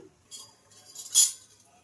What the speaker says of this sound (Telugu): ఇప్పుడు మూత అయితే పెట్టేసుకుందాం